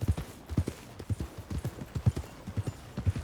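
Horse hooves clip-clop in steady rhythmic steps on a Red Dead Redemption 2 in-game horse, close and moderately loud with no talk over them.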